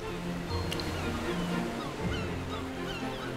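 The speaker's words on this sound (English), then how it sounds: "Look at those white foamy splashes! They're so high!" Ocean waves wash and splash on a shore in a steady rushing surf, with faint honking bird calls over the continuous roar.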